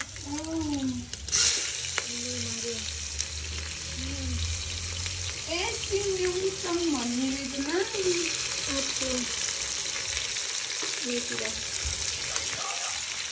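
Onions frying in a pan for a chicken biryani give a constant close sizzle that runs throughout, while a voice talks over it in short phrases.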